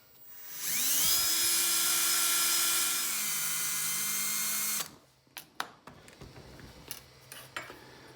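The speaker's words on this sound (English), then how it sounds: "I'm using an 1/8 inch drill" A drill with a 1/8 inch bit whines up to speed and holds a steady high-pitched tone for several seconds, then stops, followed by scattered clicks and handling knocks.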